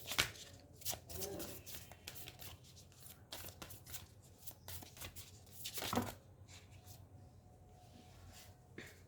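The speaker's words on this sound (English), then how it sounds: "Let me pull out one card for you." Tarot cards being shuffled by hand during a reading, crisp riffling and slapping bursts at irregular intervals, fairly close and quiet, with no talk.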